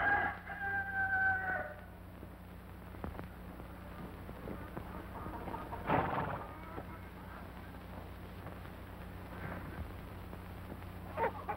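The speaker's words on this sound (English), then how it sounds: "Help me find that rooster" A rooster crows a few times from some distance, with a steady low hum underneath and no talking.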